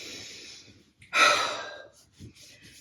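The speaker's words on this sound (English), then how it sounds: "Big deep breaths." Heavy exercise breathing during a home bone-density workout: a long soft exhale, then a sharp, loud inhaled gasp that tapers off, followed by quieter breaths, close and with no talking.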